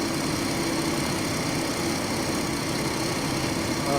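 Steady, unbroken drone of a WWI aircraft engine held at full throttle in the flight sim Rise of Flight, loud and constant throughout with no talk.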